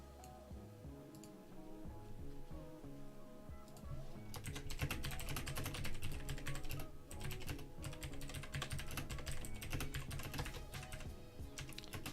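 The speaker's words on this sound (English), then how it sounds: "Excuse the typing." Computer keyboard typing during a livestream covering SPY stock chart updates, a steady run of quiet, close clicks that grows busier partway through, with no talking over it.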